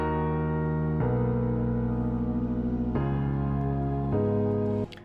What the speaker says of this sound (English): And then we have these piano chords as well as some pads.